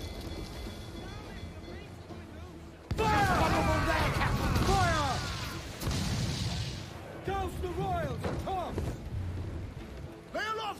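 Ship cannons fire during a naval battle in Assassin's Creed IV Black Flag. A sudden heavy broadside booms in, then rumbling blasts and crashing mix with shouting crew voices over creaking and splashing water.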